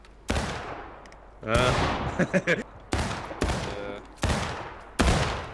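Musket volleys ring out in the Civil War game War of Rights during a drill, with about five loud, sharp gunfire bursts, each a ragged cluster of near-simultaneous shots that echo and fade, while a voice speaks between them.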